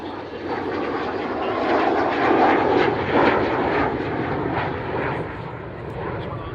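An Avro Vulcan bomber roars steadily as it flies away into the distance, a broad, sustained jet rumble that swells and then slowly fades.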